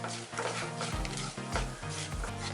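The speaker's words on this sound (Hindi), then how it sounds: "इसे आटे के साथ अच्छे से मिक्स करेंगे।" Cloves, cinnamon and ajwain being stirred into hot roasted wheat flour in a pan, with a steady scraping rhythm of repeated spoon strokes and a faint sizzle, close and without talk.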